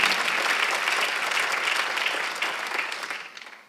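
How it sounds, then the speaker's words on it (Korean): Sustained applause from a church congregation during a Sunday worship sermon, a dense, steady wash of clapping hands that holds level for several seconds and then tapers off at the end, with no voices over it. "박수 한번 하시죠."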